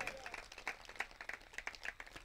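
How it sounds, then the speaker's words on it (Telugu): A congregation at a church gathering claps in quick, uneven bursts. The applause sounds faint and somewhat distant and lasts only a couple of seconds. "కొట్టో చప్పట్లు గట్టిగా."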